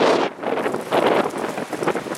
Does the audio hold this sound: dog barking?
no